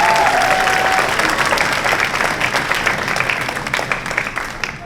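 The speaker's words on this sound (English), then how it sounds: "So one more round of applause for the Principal's Own Brass Ensemble." Concert audience at a high school spring band concert applauds a brass ensemble, loud dense clapping that gradually thins and fades over about five seconds.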